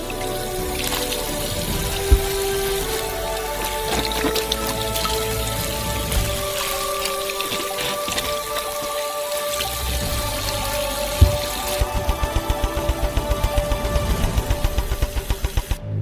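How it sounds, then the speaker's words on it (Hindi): Oranges being washed by hand in a sink filled with water: splashing and trickling water throughout, with background music and a run of rhythmic clicks toward the end. "प्रत्येक ऑरेंज को अच्छी तरह से धोया जाएगा।"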